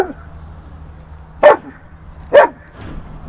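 A German shepherd at a country home with chickens gives two loud, sharp barks about a second apart, followed by a fainter third bark, over a low steady hum.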